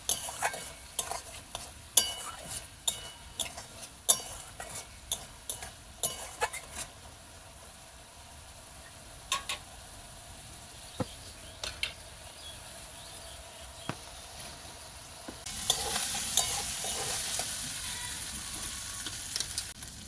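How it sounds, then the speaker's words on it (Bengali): Ground spices being mixed by hand into a chicken kachori filling, a run of close, irregular soft clicks and scrapes, with a denser, steadier rustle toward the end, no voices. "দিয়ে দেবো গুঁড়ো করা মশলাগুলো, এইভাবে ভালো করে মেখে নেব"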